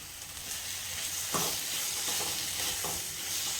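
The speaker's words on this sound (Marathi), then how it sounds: "चांगलं परतून घेऊया मसाला पूर्ण शिजेपर्यंत, त्याला तेल सुटेपर्यंत" Spice masala with finely chopped tomato sautéing in a pan for a drumstick curry, a faint steady sizzle with a few soft stirring strokes and scrapes, close but quiet.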